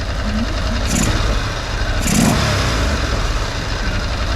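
A car engine revs twice in quick bursts and drops back toward a steady base idle, checked for how quickly the revs fall back during maintenance; the engine note is close and continuous, with no talk.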